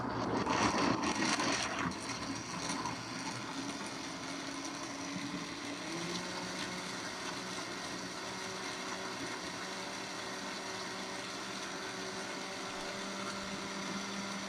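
A blender whirs steadily as it purées a whole-food, plant-based gluten-free mandarin ginger dressing, a loud burst at the start settling into a continuous even hum with a slight pitch shift partway through.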